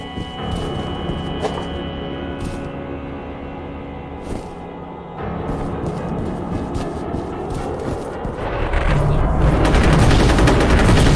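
Dense, continuous gunfire rattles through a shooter game set in the F.E.A.R. world with Paxton Fettel, a steady roar of rapid shots that swells louder and harsher toward the end; no talking.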